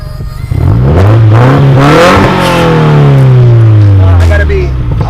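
A car engine revs hard in neutral at a car meet, trying for exhaust pops. It rises into a loud, close, sustained rev that falls off again, with no distinct pops.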